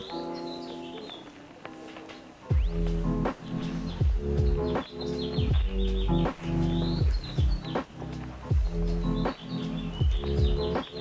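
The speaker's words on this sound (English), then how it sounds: "That bird is going crazy" A bird sings and chirps excitedly in a long run of repeated, sharp tonal phrases, close and fairly loud, with brief pauses and no talking.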